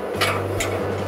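A metal handle pushed into a temporary traffic light unit, a single solid metallic clunk close by, brief and distinct.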